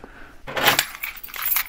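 A bunch of keys jangles in a short metallic rattle, a bright clatter followed by a few lighter clinks close by.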